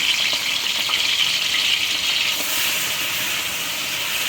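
A kilogram of onions frying in a kilogram of ghee, a loud, constant sizzling hiss heard close up with no talking, the crackle shifting slightly in tone partway through.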